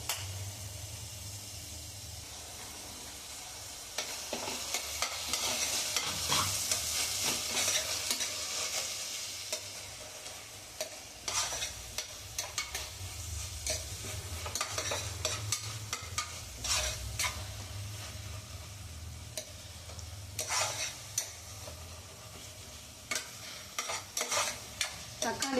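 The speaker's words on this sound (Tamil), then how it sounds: "தக்காளி நல்லா வதங்கி வரணும்" Tomatoes soften in a pan for a spicy South Indian mutton gravy, making a soft, continuous sizzle and hiss broken by repeated stirring scrapes, some sharper spatula knocks near the end, with no talking.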